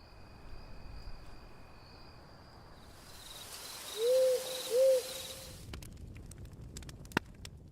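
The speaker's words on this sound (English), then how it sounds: "you can already hear the just kind of ambient wood sound here" Ambient night woodland in the Shadow Wood game: a steady wash of crickets and insects, then two clear, moderately loud owl hoots, followed by a few faint clicks, with no talk.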